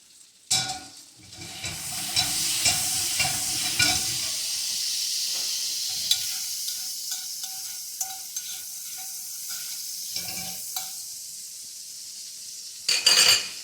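Jarred capers fry over low heat in a small amount of oil in a pan. A dense, crackling sizzle runs for several seconds, spitting and popping close by, then briefly flares louder at the end.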